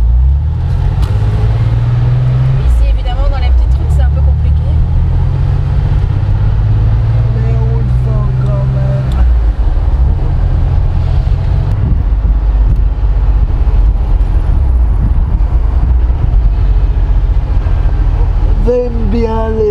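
A Porsche 911 engine pulls hard under acceleration, its tone climbing through the revs in surges, heard from inside the car with steady road and wind rumble while people talk over it.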